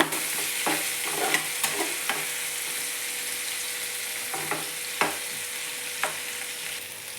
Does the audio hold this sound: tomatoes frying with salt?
yes